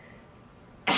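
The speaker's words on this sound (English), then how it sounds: "Oh, I may sneeze." A single sudden, loud sneeze bursts out at close range after a brief quiet lull.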